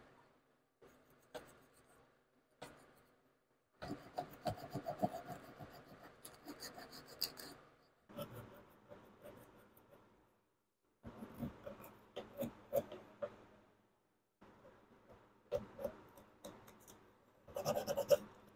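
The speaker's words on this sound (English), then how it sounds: "So I'm going to go ahead and sand." A carved walnut cross being sanded by hand with fine-grit sandpaper, giving close, scratchy rasping strokes in bursts separated by short pauses.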